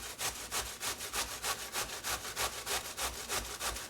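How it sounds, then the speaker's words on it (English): Cabbage shredded on a box grater in a kitchen, a steady rhythmic rasping stroke roughly twice per second, up and down, close and fairly loud with no talking. "So I'm going to take it over these holes on this grater, up and down,"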